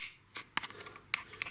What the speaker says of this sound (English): and hear the whole light units coming out